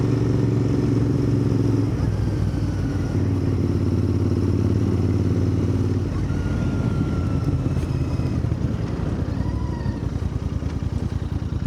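A Royal Enfield Interceptor 650 motorcycle out on a ride, its engine droning steadily with a loud rumble under heavy wind buffeting, the tone shifting partway through as the bike changes pace.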